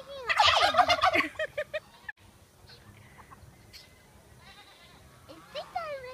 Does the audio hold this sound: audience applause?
no